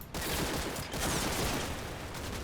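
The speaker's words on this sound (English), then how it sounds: "we come up against an MG position, which we still haven't identified, despite the fact they're shooting at us" Machine gun fire in Combat Mission: Battle for Normandy crackles as a dense, sustained burst of rapid shots, fairly faint and somewhat distant, continuing for a couple of seconds.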